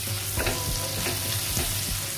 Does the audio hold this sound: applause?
no